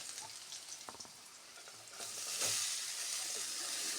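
Chopped radish for a palya goes into a pan of frying onions and cumin. A few light scrapes of stirring come first, then a louder, steady sizzle swells up and holds, close by, with no talking.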